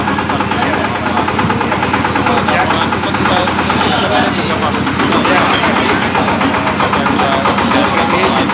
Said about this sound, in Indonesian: Kita biarkan pemanasan dulu untuk mesinnya.